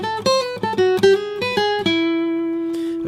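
A jazzy blues guitar lick played at full speed: a quick run of bright plucked notes over the first two seconds, then one final note left ringing and slowly fading, close and unaccompanied.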